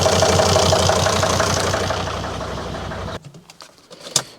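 A 2003 Volvo XC90 D5 diesel with a misfire idles roughly close by, a pulsing low rumble with an uneven beat that cuts off abruptly, leaving quiet with scattered faint knocks.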